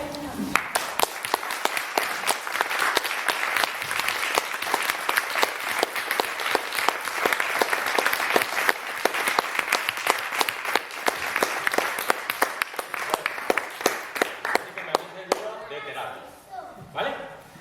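Dense, steady applause from an audience at a talk on therapeutic intervention through project work, loud and continuous before tapering off near the end.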